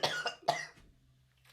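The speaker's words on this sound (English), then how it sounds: "if you carry on that coughing" A person coughs several times in quick succession, close and fairly loud, followed by quiet room noise and a faint breath at the end.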